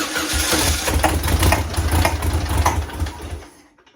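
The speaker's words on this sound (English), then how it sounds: "Sounds like I got a little backfire, but started." A BMW E36 engine, run on a choke that needs adjusting, cranks and catches into a loud, close, rough idle with a few sharp popping bursts. It holds for a few seconds, then cuts abruptly into silence.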